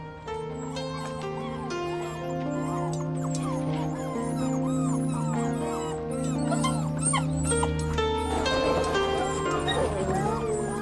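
Several rescued dogs whimper, yip and bark nearly nonstop at close range, with high whines layered over a steady hum. The barking grows busier and more agitated toward the end.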